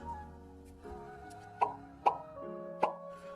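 Spoonfuls of kewra water dropping into a chicken biryani mixture, making three distinct wet plops about half a second apart, close and clear against a quiet kitchen background.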